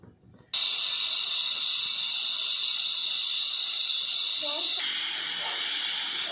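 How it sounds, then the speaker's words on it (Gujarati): A pressure cooker of potato curry venting steam after the gas is switched off, a sudden loud, close hiss that starts abruptly and holds steady for several seconds, with a brief voice partway through. "ગેસ બંધ કરી દીધો છે, આપણે વરાળ કાઢીએ છીએ।"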